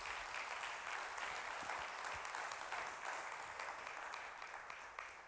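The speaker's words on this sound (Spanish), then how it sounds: "Le da ese aplauso fuerte" Steady applause from a church congregation, dense and continuous, holding at a strong level throughout before easing slightly toward the end.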